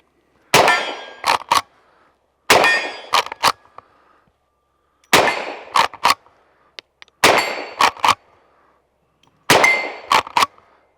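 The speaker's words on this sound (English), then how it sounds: "Now we're actually gonna go downrange here and actually shoot it at steel." Lever-action Citadel LevTac-92 rifle fired at steel targets downrange: five loud shots, each followed by sharp ringing metallic clangs from the struck steel, evenly spaced with silence between.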